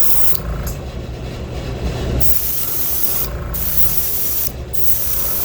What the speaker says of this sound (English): I'm spraying this with very light pressure because I want to have just enough of the white belly showing.